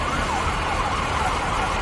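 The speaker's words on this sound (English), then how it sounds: "Think that's the ambulance coming up." An ambulance siren wails steadily with a rising and falling tone, heard at a distance over continuous road traffic noise, with no talking during it.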